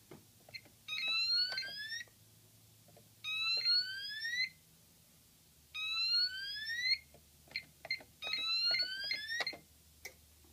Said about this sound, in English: So there's the fire alarm reporting.